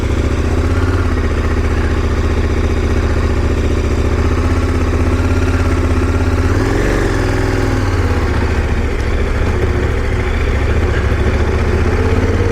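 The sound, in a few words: KTM 1090 Adventure R motorcycle engine idling while turning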